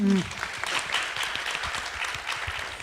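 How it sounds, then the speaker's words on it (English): A crowd applauds a woman after she shares her story at a community event, a broad steady patter of clapping that starts right after a brief voice and stays even, moderately loud, throughout. "Let's give her a round of applause"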